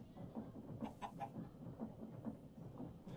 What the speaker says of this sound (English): Yep, I hear you, chickens.